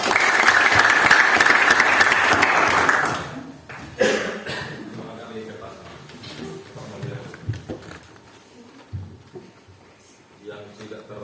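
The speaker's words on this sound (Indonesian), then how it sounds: "Kasih tepuk tangan." A classroom of students claps for a classmate during a guidance lesson, a loud burst of applause for about three seconds that stops abruptly, followed by scattered taps, shuffling and voices.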